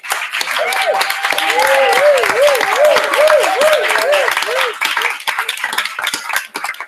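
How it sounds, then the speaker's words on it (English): An audience claps for an awardee at a gender and climate solutions event, with steady applause mixed with cheering voices and warbling, ululating vocal calls over the clapping. "Can we do better by clapping for her,"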